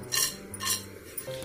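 Potato fry with peanuts being tossed in a pan, giving a few clattering metallic scrapes and shakes of the cookware in two or three quick bursts, close and moderately loud with no talking.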